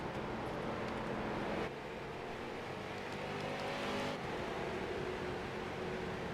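Street stock race cars circle an oval speedway in an iRacing simulation, a continuous muffled engine drone with a shift in pitch as cars pass, steady and moderately loud with no talk.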